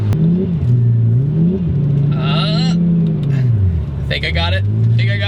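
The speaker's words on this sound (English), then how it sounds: "So this is a 1200 horsepower Gallardo built by Hefner Performance" A 1200 horsepower twin turbo Lamborghini Gallardo by Hefner Performance with a gated manual shifter pulls away, its engine droning and rising and falling in pitch through revs, loud and close, as someone talks over it.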